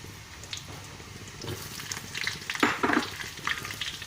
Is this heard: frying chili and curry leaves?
yes